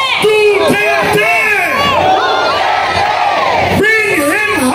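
A political rally crowd in the Philippines shouts and chants 'Duterte' in loud, rhythmic unison, with cheering voices swelling and overlapping throughout.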